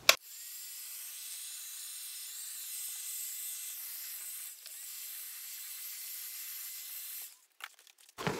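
A heat gun blows steadily for about seven seconds, a continuous airy hiss and roar, warming a curved EVA foam armor back piece for a Galadriel cosplay, then cuts off with a few small clicks and handling knocks.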